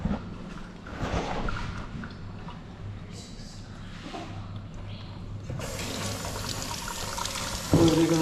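Running tap water used to wash freshly caught lobsters; a steady pour and trickle continues throughout, close by, growing brighter and louder toward the end, with faint talk in the background.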